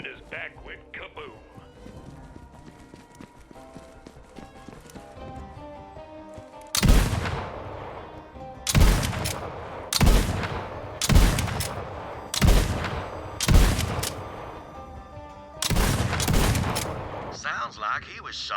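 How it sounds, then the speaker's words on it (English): A volley of heavy gunshots from the video game Borderlands 3 booms out after a musical passage, with about seven loud blasts spaced roughly a second or two apart. "Sounds like he was shot in the back"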